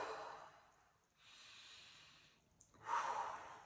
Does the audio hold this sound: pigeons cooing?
no